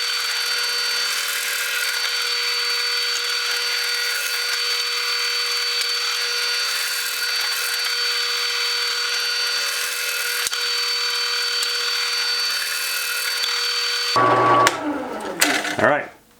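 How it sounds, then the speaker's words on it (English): A power drill bores 5/16 holes into a wooden board on a bench with a steady, close, whirring whine that runs unbroken, then gives way to brief clattering handling sounds at the end. "So I'll drill those out now."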